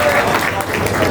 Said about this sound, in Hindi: तो इनके लिए जोरदार तालियां बजती रहनी चाहिए